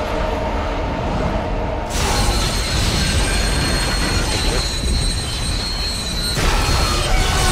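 Train ride in the video game Dead Space 2, a loud continuous roar of rushing rail noise with squealing wheels that swells and shifts in sections, filling the whole span without clear speech.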